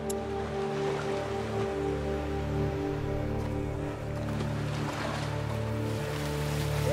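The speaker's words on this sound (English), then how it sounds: "I'm scared of the waves." Rain and sea waves wash steadily in A Plague Tale: Requiem, with a continuous hiss of rain and surf over a low droning hum and no break.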